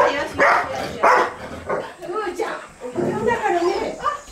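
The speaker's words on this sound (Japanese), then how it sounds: "なんでクーちゃんわんわん言うの" Dog barks and yaps close by, mixed with a voice speaking over the animal.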